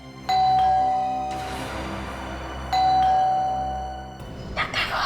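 A doorbell chimes twice in a tense crime drama scene, two clear two-note ding-dong rings separated by a pause, loud and close, followed by faint rustling and movement.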